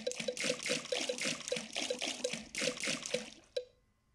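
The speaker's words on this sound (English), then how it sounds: "Peppa Daddy and George love splashing in the pool" Splashing water in a Peppa Pig swimming race video game, a rapid rhythmic series of splashes, like swimming strokes, ending with a final splash and quiet.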